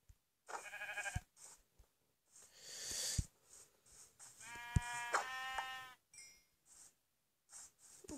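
Sheep in a survival video game bleat in several distinct, nasal calls spread across the stretch, with quiet gaps and faint breathy snorts between them.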